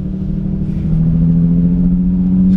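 An Infiniti G35 engine hums steadily up close, its drone swelling slightly as the car pulls away in automatic. No voices.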